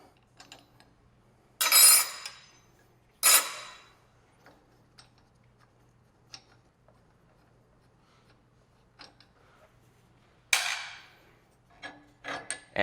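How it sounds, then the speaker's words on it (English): A big wrench works loose the arbor nut on a SawStop table saw, heard as a few short metallic scraping and rasping bursts separated by quiet pauses, close and without talk. "I'll get out my nice big wrenches here and loosen up that arbor nut."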